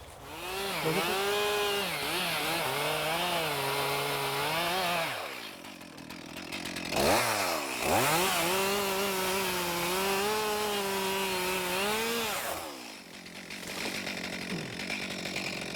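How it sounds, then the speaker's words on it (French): A chainsaw engine revs and bogs repeatedly while felling a tree during timber skidding, a loud buzzing whine rising and falling as it cuts, close up, with brief pauses between runs. "pour couper un arbre, on a besoin d'une tronçonneuse"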